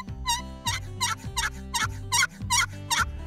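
Flextone Jack'ed Up box call worked in a series of about seven loud, raspy yelps in steady rhythm, a turkey-style calling sequence played close and alone with no talk.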